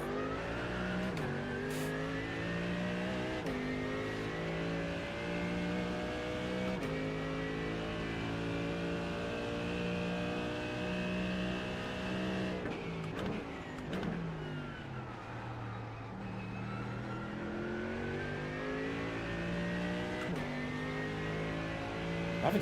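Porsche race car engine in the iRacing sim, revving loudly and continuously with rising and falling pitch through gear changes, brief dips as it shifts, a steady close engine roar throughout.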